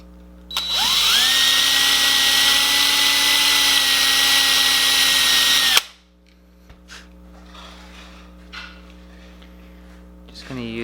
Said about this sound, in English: It doesn't look like I drilled all the way through it.